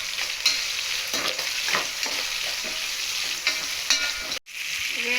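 Chopped tomatoes with a little salt fry in a pan for chicken biryani, giving a steady close sizzle broken by scraping stirs and a brief clatter near the end.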